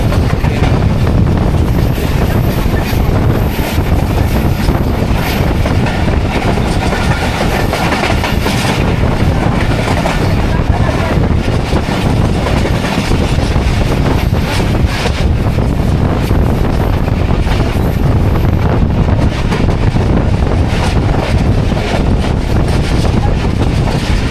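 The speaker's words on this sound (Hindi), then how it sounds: "मुबारकपुर रेलवे स्टेशन से थ्रू पास हो रही है 43 अब शाह हुसैन एक्सप्रेस" Shah Hussain Express train passing straight through Mubarakpur railway station, heard from on board as a loud continuous roar with rapid clickety-clack of wheels over rail joints and heavy wind buffeting throughout.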